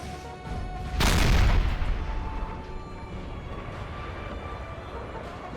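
A single heavy 9-pounder artillery cannon booms once in a Napoleonic battle in Napoleon Total War, a loud close blast that rolls off into a low rumble over continuous battlefield ambience.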